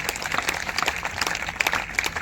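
A church congregation claps loudly during a Palm Sunday sermon, a brief, dense burst of many hands clapping at a steady level, close and full.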